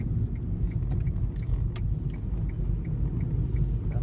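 Hyundai i20 hatchback on the road easing off and slowing toward a roundabout, heard from inside as a steady low engine and road rumble, loud and continuous with a few faint ticks above, no talking.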